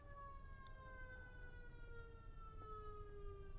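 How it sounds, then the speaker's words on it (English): A siren wails faintly in the distance, its pitch sliding slowly downward over a steady low rumble of background noise. "Do I hear sirens?"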